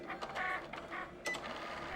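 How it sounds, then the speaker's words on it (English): Sticker machine printing designs, a quiet run of soft mechanical whirring and clicking pulses, heard close and faint. "I then had to get out my sticker machine and then ripped some of the designs online and printed them out"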